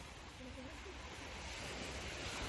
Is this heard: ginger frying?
no